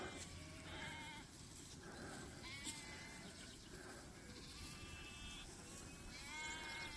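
Ewes and lambs bleat repeatedly at a distance, overlapping calls of varying pitch rising over a soft outdoor background.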